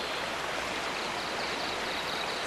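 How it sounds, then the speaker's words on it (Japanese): A babbling stream gives a steady, even rush of flowing water, close and continuous, with no voices. "せせらぎの音"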